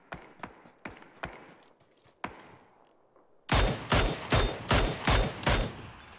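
Gunfire in PUBG starts as scattered, fairly distant single shots, then a louder, closer volley of about seven sharp shots follows in quick, even succession.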